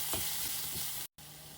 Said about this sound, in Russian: затем обжариваю грибы с луком